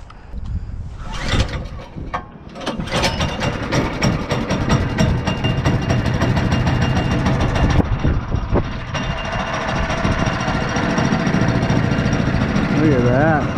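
A new mud motor on a boat cranks and fires up, then settles into a steady, loud idle that runs continuously, with a person talking over the engine noise near the start.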